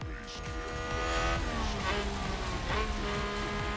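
Cars racing in the wet at the Dutch Grand Prix in F1 Manager 2022, with engines droning and a brief tire lock-up skid squealing over the steady roar of passing race cars.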